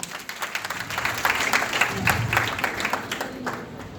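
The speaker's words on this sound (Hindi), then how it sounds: "एक बार जोरदार तालियां बजा दो।" An audience at a college talk show for International Day of the Girl Child bursts into applause, a dense wash of clapping hands that swells and holds steady for several seconds.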